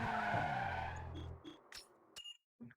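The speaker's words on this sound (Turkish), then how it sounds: "Aracımızın sesi artık değişiyor bakın." A car engine revs loudly in Need for Speed Underground 2, then the note drops as a tire skid hisses and fades, followed by a few short electronic beeps and blips near the end.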